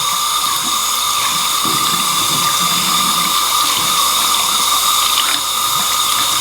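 A tap runs steadily to wet a cotton ball for cleaning a chick, a loud, continuous close hiss of flowing water into a sink with no break or speech.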